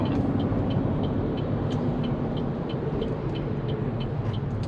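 A BMW M340 car engine rumbles steadily nearby, a continuous low drone with faint repeated ticking above it, no voices.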